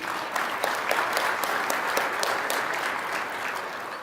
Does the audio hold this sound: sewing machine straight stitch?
no